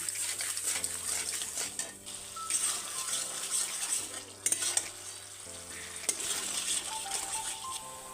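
Soaked spice paste is stirred and fried in a pan for a Bengali vegetarian taro dish, a steady close sizzle with repeated metallic clinks and scrapes of a spoon against the pan, while a low tonal hum runs underneath.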